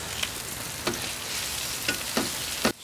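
Onions sizzle and fry on a Ninja Woodfire grill, a steady crackling hiss broken by a few sharp clicks and scrapes, ending abruptly.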